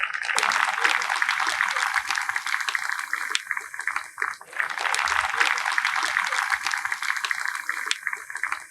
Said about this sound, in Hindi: आइए करतल ध्वनि के द्वारा ताली बजाते हुए हम स्वामी जी को अभिवादन करें